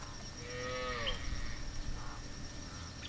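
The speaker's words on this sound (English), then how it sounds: "Cattle graze on what was once a thriving campus." Cattle grazing on an abandoned college campus give one long, low moo, fairly near, over a steady outdoor background of insect buzzing.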